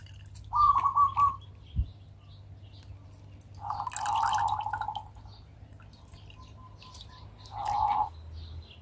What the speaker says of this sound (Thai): ให้เพื่อนๆบีบมะกรูดนะคะเอาน้ํามะกรูดนะคะบีบใส่ลงไปเลยนะคะ